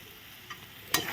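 Spices and eggs being sautéed in a pan for egg curry, with cumin powder, sugar and chilli added: a faint steady sizzle, then a brief louder stirring scrape near the end, close by with no talking.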